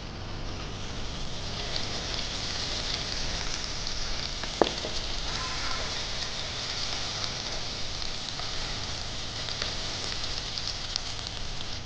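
Chopped onions fry in mustard oil along with fried potatoes, a dense, even crackling sizzle that holds steady throughout, with one sharp click partway through.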